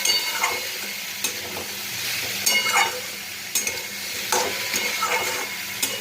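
Mixed vegetables with turmeric and salt sauté in a pan, giving a steady bright sizzle up close, with repeated stirring scrapes every second or so.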